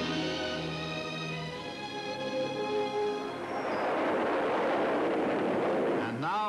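A Jupiter missile carrying animals in its nose cone lifts off, starting with a tonal sound and then swelling into a dense, continuous roar of rocket exhaust that grows loud and stays sustained.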